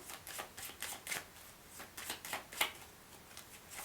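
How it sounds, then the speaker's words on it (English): A deck of tarot cards is shuffled by hand during a card reading, producing a quiet, rapid series of soft riffling bursts that repeat irregularly with no talking. "so let's give this a little shuffle"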